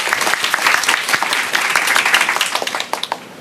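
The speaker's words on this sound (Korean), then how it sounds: "박수로 맞아주십시오." An audience applauds to welcome a youth community leader from Yeongcheon, North Gyeongsang, at a youth meeting with the Korean president: dense, steady clapping from a full room that thins into scattered claps near the end.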